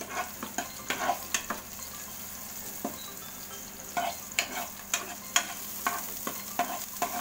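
Garlic sautéing in oil in a pan for pinakbet, a quiet steady sizzle punctuated by a regular series of spatula scrapes and taps against the pan.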